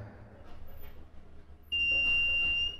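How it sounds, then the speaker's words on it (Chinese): A piezo buzzer in an Arduino light-sensor circuit sounds when a flashlight shines on its photoresistor, a sudden steady high-pitched tone that starts midway and holds for about a second before stopping. "用手电筒照着这个光敏电阻，这个蜂鸣器就响了"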